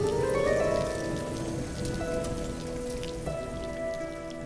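Heavy rain falls steadily in southern Italy, a dense even hiss of drops on surfaces, close and constant with no voices.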